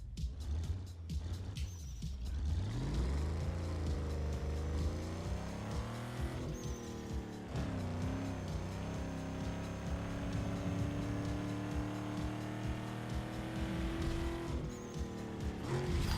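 Lincoln Navigator SUV engine revving high in the racing video game Need for Speed Underground 2, a loud continuous drone rising in pitch with gear changes and brief tire squeal, steady and close throughout.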